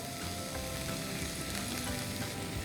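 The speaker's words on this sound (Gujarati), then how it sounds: "હવે આ બધું પ્રોપર એકવાર હલાવી લઈએ." Vegetables with chili sauce and ketchup sizzle in a pan, a dense, quiet frying crackle running continuously with soft stirring scrapes underneath, no speech.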